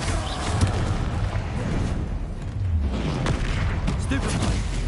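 Blasting spell explosions and booming impacts from a wizard-duel fight in Hogwarts Legacy, a dense, continuous rumble of bursts with shouted spell names running over it.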